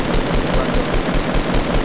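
Rapid gunfire in a video game, a steady stream of shots firing in quick rhythmic succession, loud and continuous across the whole moment with no voices over it.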